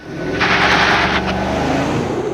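A 2021 Chevrolet Tahoe in two-wheel-drive high with traction control off launching hard from a brake-boosted start, a loud sustained roar of engine and tyres building quickly and holding, up close.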